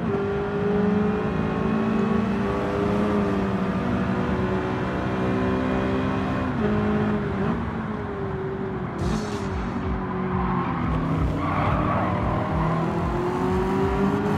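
Alfa Romeo 4C 2014 racing in Gran Turismo 7, its engine holding a steady drone with shifting pitch as it accelerates, loud and continuous, with a brief higher whine near the end.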